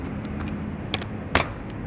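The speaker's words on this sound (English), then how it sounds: "Windows key K plus R on your keyboard, the Windows logo plus R" A few sharp keystrokes tap on a computer keyboard, set apart at irregular moments over a low steady background hum, with no talking.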